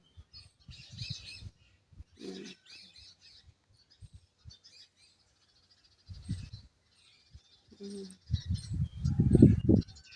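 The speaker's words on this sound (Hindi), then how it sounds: "चिड़ियों की चहचहाट है" Birds chirp and tweet in short scattered bursts on a quiet morning near dense interlocking plants, faint and intermittent, with talk and a louder low rumble toward the end.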